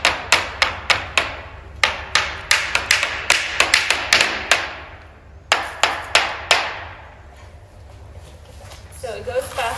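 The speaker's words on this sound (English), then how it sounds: "It's sort of weird to have to hammer into a curved surface." Nails are hammered into the curved face of a wooden canvas stretcher frame in quick bursts of sharp, close taps with brief pauses between. People talk over some of the blows.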